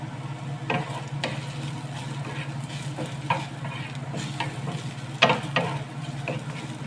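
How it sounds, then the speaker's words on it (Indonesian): Mushrooms are stir-fried in a pan, producing a low steady sizzle broken by several distinct spatula scrapes and taps against the pan, close and moderately loud. "jamurnya ditumis seperti ini sampai harum"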